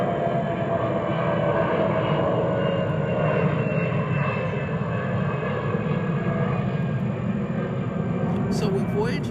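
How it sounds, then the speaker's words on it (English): A fixed-wing airplane drones steadily overhead for the whole stretch, a continuous low engine rumble at moderate volume, while a voice talks over it. "More travel here with this plane."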